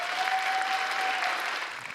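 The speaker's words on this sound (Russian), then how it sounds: "Давайте аплодируем друг друга." Steady applause from a small audience at a KVN comedy season opening, dense and even for the full two seconds, tapering slightly at the end, with no talk over it.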